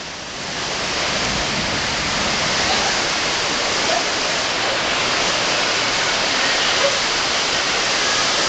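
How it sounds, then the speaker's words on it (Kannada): Heavy rain pours in Shimoga as a dense, even, close hiss that swells in during the first second and then holds steady and loud, with no one speaking. "ಫುಲ್ ಜೋರಾಗಿದೆ ಮಳೆ"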